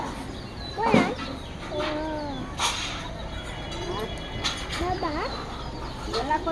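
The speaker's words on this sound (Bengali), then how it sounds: "এই দেখেন হাঁস।" Ducks quacking outdoors in a village yard, several short nasal calls scattered at moderate distance among other farm and street background sounds.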